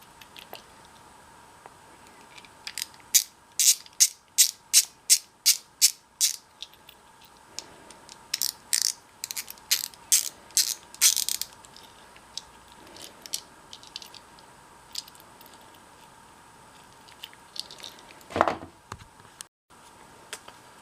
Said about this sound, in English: there's screws here that we want to undo to allow the cable to enter